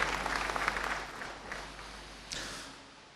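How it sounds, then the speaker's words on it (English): Applause from a live studio audience welcoming the panelists at a televised political party debate, a dense wash of clapping that is loudest at the start, then fades with a brief swell near the end. "may I invite you to now give them a round of applause as I introduce our panelists"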